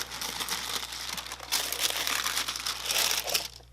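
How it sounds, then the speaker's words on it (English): Black and white tissue paper crinkles as a box holding Air Jordan 3 Animal Instinct sneakers is opened, close-up rustling in bursts that grow louder and busier toward the end. "open up the box. Black tissue paper"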